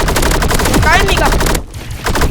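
Rapid SKS rifle fire in a Roblox shooter game, a dense burst of loud repeated shots over about a second and a half with a brief voice partway through, then a short lull before more firing.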